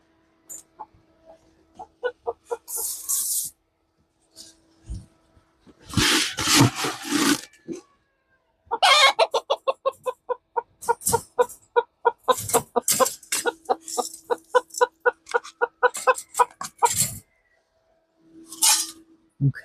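Backyard chickens clucking and a rooster calling in bursts, with guinea fowl nearby, repeated rapid cluck series and squawks separated by quiet gaps, fairly close and without talk.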